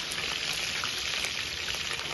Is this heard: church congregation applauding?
no